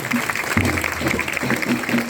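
An audience claps in honour of APJ Abdul Kalam at a Teachers' Day talk, steady moderate applause from a crowd lasting about two seconds.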